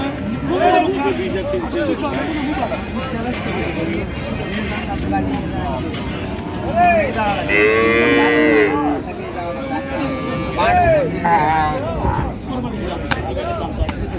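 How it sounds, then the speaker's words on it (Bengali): Several dairy cows and calves moo repeatedly at the Raniganj cattle market in Dinajpur, loud and close, with long drawn-out calls over a steady background of people chattering. "গাভী বাছুর আমরা দেখছিলাম এখানে"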